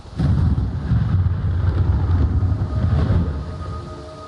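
Rain and a deep rolling rumble of thunder fill a stormy scene in Metal Gear Solid 3: Snake Eater. Loud low-frequency roaring swells, holds for about three seconds, then eases off.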